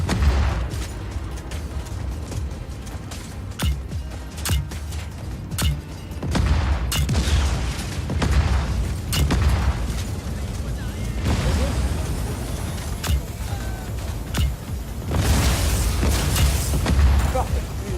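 Grenade blasts and gunfire in the video game Just Cause 4, with repeated sharp bangs and booming explosions spread across the scene under ongoing game noise and someone talking.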